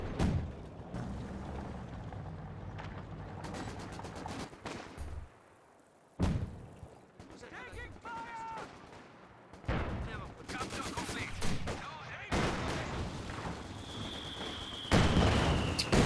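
Video game battle from a 2v2 real-time strategy match with grenade assault and gunfire, dense rattling bursts and thuds broken by a brief lull, then heavy firing again.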